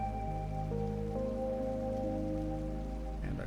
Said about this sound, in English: The slight drizzle is really... See, light drizzle.